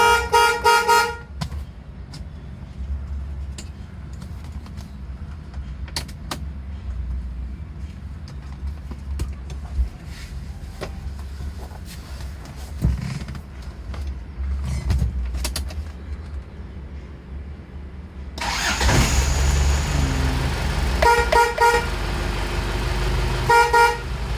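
An Isuzu Panther car horn honks in short bursts, a quick beep early on and then repeated loud blasts toward the end, over steady engine rumble.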